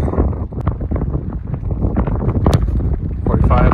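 Strong right-to-left crosswind of about 20 to 25 mph buffets the microphone on a football field during field goal kicking practice, a loud constant roar with a sharp kick thump or two, under voices talking.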